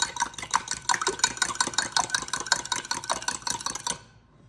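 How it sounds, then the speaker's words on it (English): Eggs whisked in a bowl for peppermint candy cane mini cheesecakes: a steady, quick rhythmic clinking and scraping of utensil against the bowl, close and fairly soft, that stops abruptly near the end. "I'm gonna mix together the eggs."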